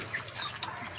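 A hen clucks faintly in a backyard pet coop just after laying an egg, a few soft calls over steady low background noise.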